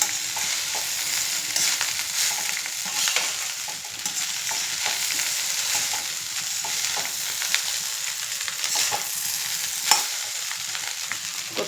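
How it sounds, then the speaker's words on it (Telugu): Egg fried rice stir-fries over a high flame, with a loud continuous sizzle and steady scraping and tossing in the pan throughout, close and with no voices. "హై ఫ్లేమ్లో పెట్టుకొని కలుపుకోవాలి"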